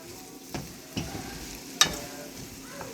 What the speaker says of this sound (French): Là, je mets mes oignons, puis mes champignons. Puis là, on va faire cuire ça.